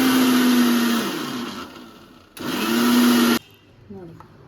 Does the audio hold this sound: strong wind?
no